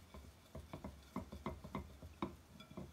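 Soft, close rubbing and scuffing of a cloth wiping inside a greasy pot, with faint scrapes and light knocks in an irregular circular rhythm, quiet and without talk.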